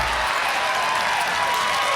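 Audience applause fills a poker final table venue, a steady, dense wash of clapping that holds at an even level throughout.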